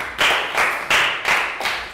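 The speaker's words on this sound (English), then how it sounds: "round of applause for Pak Bung." A classroom of students claps together in a rhythmic pattern of about five evenly spaced bursts, a short round of applause for a classmate in an English lesson.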